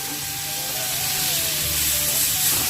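Shol fish frying in hot oil in a very hot wok, giving a steady close crackling sizzle with a constant hiss throughout, no voices.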